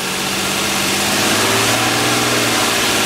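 A 2010 Nissan Pathfinder LE 4x4 SUV engine runs loud and close, a steady, dense mechanical drone with a constant low hum that holds evenly throughout rather than dropping away.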